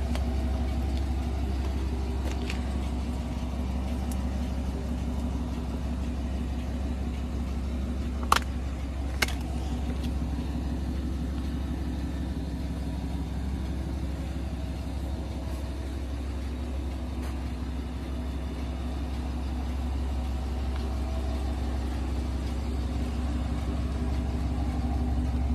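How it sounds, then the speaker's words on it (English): A 2021 GMC Sierra Elevation pickup idles after a remote start, a steady low engine hum that holds evenly throughout, with two brief faint clicks partway through. "just hit the lock button twice and then hold this down and it will start your vehicle for you"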